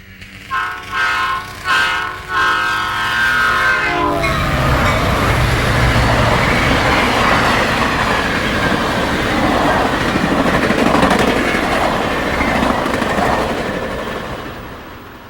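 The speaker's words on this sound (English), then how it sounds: "the westbound Amtrak Southwest Chief makes its appearance" The westbound Amtrak Southwest Chief passenger train passes on the Santa Fe line, opening with several loud horn blasts, then a sustained roar and rumble of passing cars that slowly fades.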